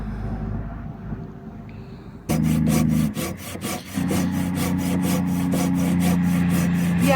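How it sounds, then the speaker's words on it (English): Battle Horse Knives Smoky Mountain Razor folding saw cutting through wood, a loud rhythmic back-and-forth rasp of steady strokes that starts after a quiet moment and carries on to the end. "it's not that hard to saw through, and my arm strength is minimal at best, so you kind of just let the saw do all the work for you"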